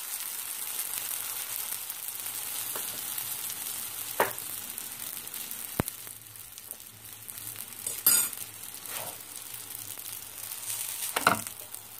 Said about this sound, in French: Donc je vais la laisser cuire comme ceci, qu'elle ait la même couleur que les deux côtés, qu'elle soit bien cuite.